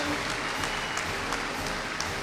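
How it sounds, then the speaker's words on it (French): Audience applauding a world savate boxing champion at a championship final, a brief stretch of steady, dense clapping from a crowd, moderately loud. "Sous vos applaudissements, bravo."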